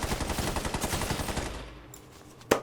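Shotgun fire in the video game Fortnite, a dense run of rapid gunshots with game effects for nearly two seconds, then a lull and one sharp, loud blast near the end.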